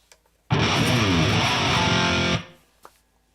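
Distorted electric guitar played through a Neural Quad Cortex with an ambience reverb, a single loud sustained chord ringing for about two seconds before cutting off into a short reverb tail, followed by a faint pick click.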